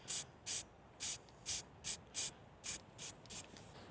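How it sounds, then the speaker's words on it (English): Spray paint hissing onto the leaves of a cheap leaf suit from a distance, nine short sharp bursts in a fairly even rhythm, each about a quarter second, with quiet pauses between. "I'm gonna spray quite far away here because I don't want loads on it"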